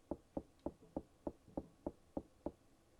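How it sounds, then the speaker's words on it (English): Knocking inside a house: nine evenly spaced, hollow knocks in a steady rhythm, each a sharp thud that fades quickly, fairly close and clear with no talk. "I think I just heard some knocking in my house"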